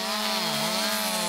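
A chainsaw engine roars steadily up close, its pitch dipping briefly and then rising again as it bites in, loud and continuous.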